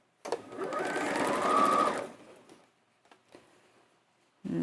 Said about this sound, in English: And then carry on sewing from the end of the crease line down.